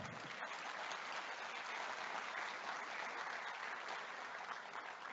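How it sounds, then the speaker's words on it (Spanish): Conference audience at a university talk on professionals in the age of AI giving a steady round of applause, even and sustained, heard from some distance at a modest level. "Un fuerte aplauso,"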